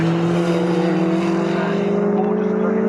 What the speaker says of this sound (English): It has a very distinctive roar as, I mean, it's so fast